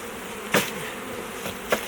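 A honey bee swarm hums steadily as it is tapped and poured into a hive box, with two sharp thumps of the box cutting through the dense close buzzing.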